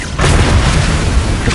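A Confringo spell blast in the Hogwarts Legacy video game, heard as a loud, sustained fiery boom that swells quickly and rumbles on steadily for over a second, close and with no voices.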